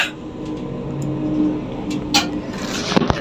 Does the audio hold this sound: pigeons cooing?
no